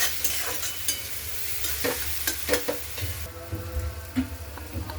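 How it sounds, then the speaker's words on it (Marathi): Onion with a green chili, garlic and salt paste sautéing in a pan for a Vidarbha-style kutke dish, a steady close sizzle broken by repeated scraping stirs of a spoon, with no talking. "आता आपण याच्यामध्ये हिरवी मिरची, लसण आणि मीठ टाकून केलेलं वाटण घालू। त्याला पण 1 मिनिटभर परतून घेऊ।"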